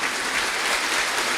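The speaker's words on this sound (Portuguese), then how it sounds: "Aplauda Jesus bem forte." A church congregation applauds loudly, a dense, even wash of clapping that fills the room without pause and has no voices on top.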